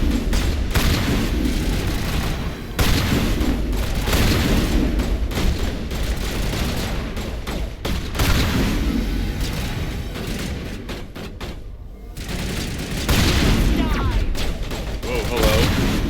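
Loud, repeated shotgun blasts and heavy combat gunfire in Mass Effect Legendary Edition, dense booming shots and explosions throughout with brief pauses, alongside game voices.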